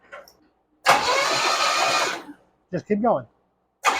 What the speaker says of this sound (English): now I'm going to go ahead and rotate the engine by using the key